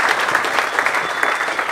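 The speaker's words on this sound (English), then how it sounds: "Give the Lord a hand clap of praise before you sit down." Congregation at a church service claps in praise, a dense, steady burst of many hands clapping at once, loud and close with no talk over it.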